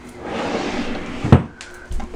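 A bedroom drawer holding nail polish slides open with a soft scraping rustle, then gives a sharp wooden knock and a second thud as it stops, all close and fairly loud.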